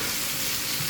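Thinly sliced bitter gourd and potato fry in a pan, a close, steady sizzle and crackle of hot oil throughout.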